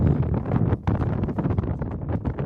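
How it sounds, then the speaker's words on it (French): Wind buffets a microphone outdoors at Monument Valley in a steady low rumble with gusty surges, fairly loud and continuous, with no speech. "il y a du vent."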